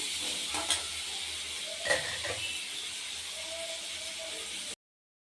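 Quiet sizzle of spices frying in oil as a tempering for aloo gobhi, with a couple of clinks from a utensil, then it cuts to silence.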